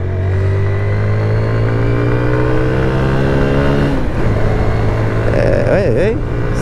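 A 2004 Honda CBR 125 R motorcycle's single-cylinder engine idles steadily, then is revved in a series of sharp blips that climb and fall, loud and close.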